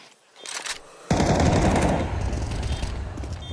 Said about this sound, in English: That's Keisuke with the M4 firing off.